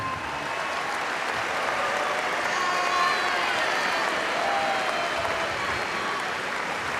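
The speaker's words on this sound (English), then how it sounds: "a nice round of applause for Dave Shoji on win number" An arena crowd at a University of Hawaii Rainbow Wahine volleyball match applauds head coach Dave Shoji's milestone win, a sustained roar of clapping with scattered cheers and whistles, dense and even throughout.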